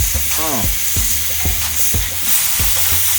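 Porterhouse steaks sizzle loudly on a charcoal grill right after being flipped, a steady close frying hiss broken by several sharp tong clacks and thumps as the meat is turned and set down.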